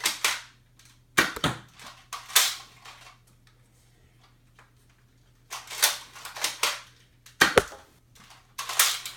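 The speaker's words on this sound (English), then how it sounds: "I'll shoot a couple of Elite darts so you guys can see their cross compatibility." Nerf Elite foam darts fired from a toy blaster with an Excel scope, several sharp pneumatic shots in separated bursts of two or three, close and loud against a faint steady hum, no talking.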